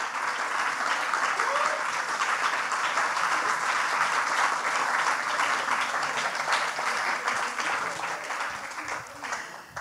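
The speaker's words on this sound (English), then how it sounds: "Applause for Kishan." A Science Slam audience applauds a third-prize winner with dense, loud, sustained clapping that fills the room and tapers slightly near the end, with voices mixed in.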